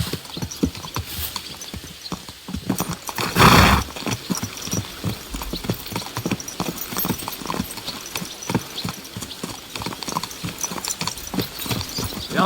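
Horse ridden at a steady gait in Kingdom Come: Deliverance II, crisp rhythmic hoofbeats with tack rattle and a brief louder rush partway through, mostly alone with little talk.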